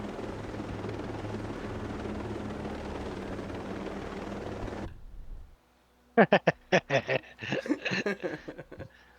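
A helicopter in the Ghost Recon Breakpoint video game drones steadily with a loud rotor rumble for several seconds, then cuts out abruptly, followed by bursts of people laughing and chatting.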